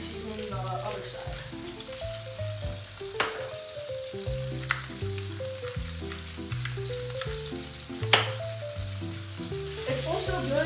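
A salt-and-pepper-seasoned steak sears in a pan with a steady, moderate sizzle beneath louder background music, with a few sharp clicks and knocks along the way.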